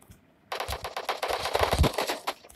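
Rapid automatic AKM rifle fire in a shooting video game, a single fast continuous burst of sharp loud shots lasting about two seconds after a brief quiet start.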